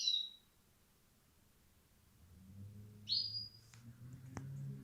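A small bird gives a few high, thin chirps with quiet gaps between them, one at the start and more later, over a low background hum.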